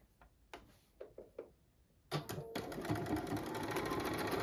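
Quilting fabric is stitched on a sewing machine. A few light ticks and clicks come first, then the motor starts up into a steady, close whirring run of stitching with no talking.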